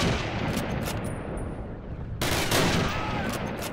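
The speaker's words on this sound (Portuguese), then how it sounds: "Tiro de sniper, tu não morre não, doidão?" Sniper gunfire in Call of Duty 2 on PC at Veteran difficulty, a loud sharp report cutting in at mid-clip over dense, continuous battle noise and scattered distant shots.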